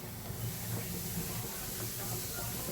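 Asafoetida and spices sauté in hot oil for a dhaba-style rajma masala, making a steady, close hiss and sizzle with a faint low murmur underneath.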